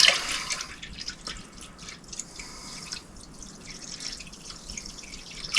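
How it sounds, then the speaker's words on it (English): Water poured into crabapple wine must, a light trickle with splashy drips and small liquid clicks over a few seconds, fairly quiet and alone. "So I'm going to add a little bit more water because I think that's still too high."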